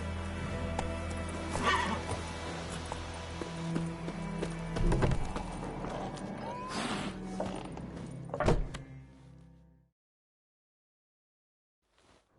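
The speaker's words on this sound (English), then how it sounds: "Whoa there, Roach" A horse in The Witcher 3 game clip-clops along and whinnies loudly a couple of times amid gear rattles and ambient game noise, then the sound cuts to silence near the end.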